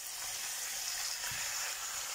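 Loud, steady sizzle of chicken pieces, bone-in cuts first, frying in a pan for chicken afritada, with a soft stirring bump partway through.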